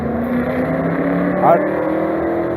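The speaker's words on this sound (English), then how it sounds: "I got fucking distracted because of this loud ass fucking car" A loud car driving past outside, a steady rumbling engine drone with a brief swell as it passes, heard under ongoing talk.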